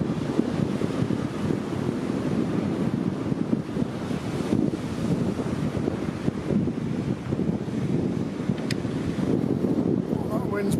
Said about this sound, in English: Well, that wind's pretty sharp.